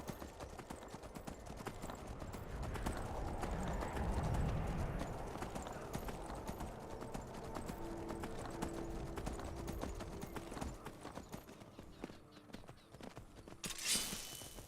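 Horse hooves in Skyrim Anniversary Edition clatter in a quick, steady galloping rhythm throughout, with a soft rush of motion behind them and a brief burst of noise near the end.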